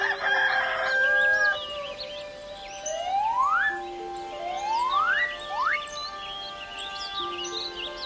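Rising, crowing-like hen calls repeat three times over steady background birdsong, fairly close and clear, with a busy burst of chatter at the start.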